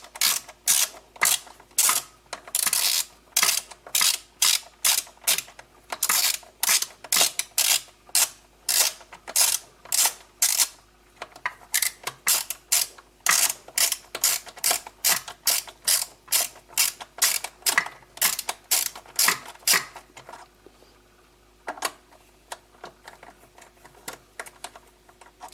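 A ratchet wrench with an 8 mm socket tightens a hose clamp on a car engine sensor, giving long runs of close, sharp clicking in rhythmic bursts with short pauses, then stopping near the end.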